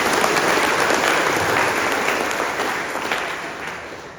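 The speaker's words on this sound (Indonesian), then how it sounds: "Tepuk tangan untuk Pak Kapten Pur." Applause for Captain Pur at the opening of a community empowerment training event: a dense, loud crowd clapping that holds steady, then gradually fades over the last seconds.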